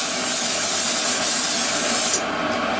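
Cooking spray from an aerosol can hissing steadily onto the sides and bottom of a springform pan, one long unbroken close spray that dips slightly in level near the end, with no talking.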